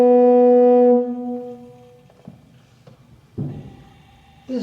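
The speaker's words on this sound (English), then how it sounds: "The principal sound of a pipe organ is called diapason. And this is a diapason stop," Diapason stop of a pipe organ, its principal sound, rings as one bright, harmonically rich sustained note for about a second before dying away, then faint clicks and handling noises follow.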